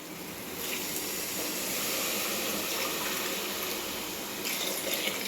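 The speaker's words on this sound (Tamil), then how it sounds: "இப்போ வந்து தண்ணி ஊற்றிக்கலாம்." Water pouring into a cooking pot while making biryani, a steady rushing splash that starts after a brief pause and runs continuously at a constant level, close and unaccompanied by talk.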